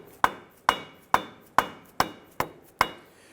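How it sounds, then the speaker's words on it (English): Mallet taps an axle shaft into the differential of a 2006-2010 Hummer H3 during a rear wheel bearing job: seven sharp, evenly spaced metallic knocks, each ringing briefly before the next, close and fairly loud with no talk. "I'm going to go ahead and start to tap this using our mallet."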